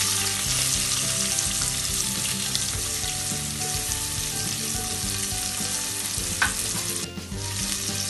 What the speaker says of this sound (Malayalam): പച്ചമുളക് ഇട്ട് കൊടുക്കുകയാണ് ഇനി ഞാൻ സവോള ഇട്ട് കൊടുക്കുകയാണ്